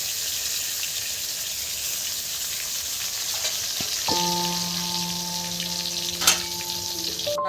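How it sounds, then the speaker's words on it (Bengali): Marinated round eggplant slices fry in hot oil with a loud, constant close-up sizzle, joined about halfway through by a steady tonal hum, with no talking. "খুব সুন্দর করে ভেজে নিচ্ছি বন্ধুরা"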